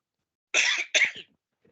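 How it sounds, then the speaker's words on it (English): Two quick, harsh coughs in close succession, loud and close, followed by silence and a faint small sound. "Excuse me, I'm going to cough."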